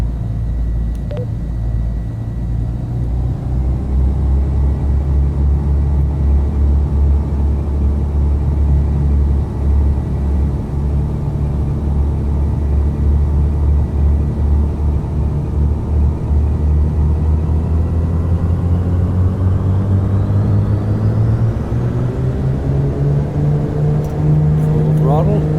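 Piston Duke twin-engine aircraft in a VR flight simulator rolling down the runway for takeoff, a loud steady engine drone whose pitch slowly climbs as power and speed build, with a voice talking over it.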